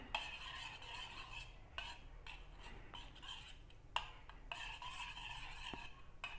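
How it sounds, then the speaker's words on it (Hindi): A homemade skin remedy mixture for stretch marks is stirred in a bowl, a soft, steady scraping swirl with a few light clinks of the spoon against the bowl, close and fairly quiet, with no voices. "ये पूरे मिक्सचर को एक साथ मिक्स कीजिए।"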